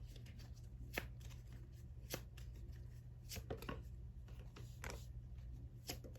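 Tarot cards being shuffled, soft quick riffles and taps in irregular bursts, close and quiet over a low steady hum, with no talking.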